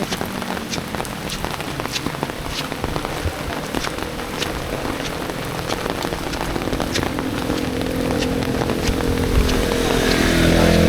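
Heavy rain pours steadily during severe flooding on Marang Road, a dense, continuous hiss of drops on surfaces that swells slightly louder toward the end, with no voices.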